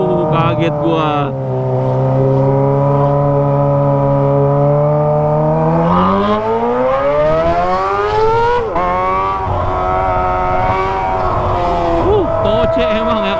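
Kawasaki ZX25R fitted with a Toce exhaust in heavy afternoon traffic: a steady, loud, close engine whine, then the revs climb sharply midway before settling into a fluctuating drone.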